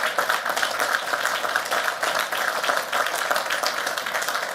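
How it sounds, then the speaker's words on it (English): A crowd at an outdoor Juneteenth concert with a presidential speech bursts into sustained applause, dense even clapping filling the whole stretch without a break. "You can clap for that."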